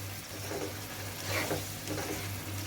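Chicken simmering in tomato puree in a pan, a soft, steady sizzle and bubbling with faint stirring scrapes, close and quiet, no voices.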